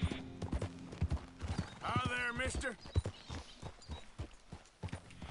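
A white Arabian horse in Red Dead Redemption 2 clip-clops along with steady, close hoofbeats, giving a short whinny partway through while game voices and a player talk over it.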